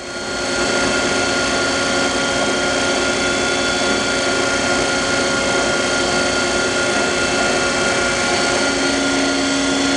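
A Brown & Sharpe 1024 plunge universal cylindrical grinder runs in full auto cycle, a loud, steady mechanical hum and whine with constant tonal drone, close and unbroken throughout.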